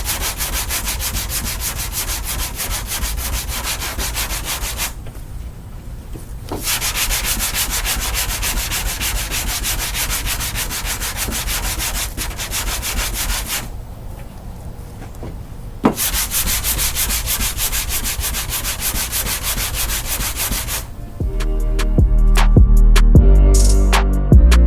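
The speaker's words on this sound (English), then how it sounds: "Finished up with all the block sanding with the 80 grit." Hand block sanding of a car body panel with 80 grit sandpaper during auto bodywork, a steady loud abrasive rasp in long continuous strokes with two brief pauses, close up, followed by a few clunks and handling noises at the end.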